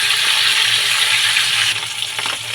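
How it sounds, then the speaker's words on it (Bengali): A hilsa fish head fries in hot oil, making a loud, dense and continuous sizzle close up, which softens slightly near the end. "মাথাটা কড়া করে ভাজা হয়ে গেছে"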